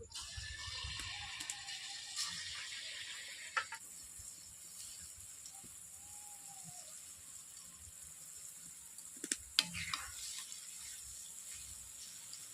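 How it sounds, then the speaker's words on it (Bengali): Rounds of soft palm fruit and rice batter fry in hot oil in a wok, a faint, hissing sizzle that is stronger at first and then settles lower, with a few small clinks. "আমার তেল গরম হয়ে গেছে আমি কড়ার মধ্যে এরকম গোল গোল করে দিয়ে দিচ্ছি"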